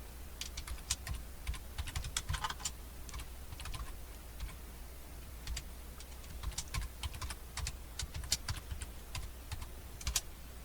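Tooltip text being typed on a computer keyboard, a quiet run of irregular key clicks in short bursts with brief pauses, close to the microphone over a low steady hum.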